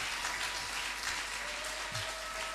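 A church congregation at a Sunday thanksgiving service applauds in a steady, dense wash of clapping that holds for the whole stretch, with faint voices mixed in.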